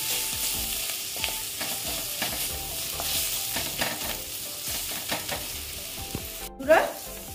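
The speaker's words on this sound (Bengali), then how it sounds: "তারপরে দিচ্ছি কাশ্মীরি লাল লঙ্কার গুঁড়ো। দিয়ে এবার আমি এটাকে আবার ভেজে নিচ্ছি।" Spices with Kashmiri red chilli powder frying in a pan for an egg curry, a continuous close sizzle broken by repeated stirring scrapes and a sharper utensil knock near the end, no voices.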